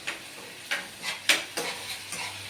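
Curry leaves sizzling and spluttering in hot oil while tempering nimmakaya pulihora (lemon rice): sharp crackling pops burst every half second or so over a steady close hiss, with no talk.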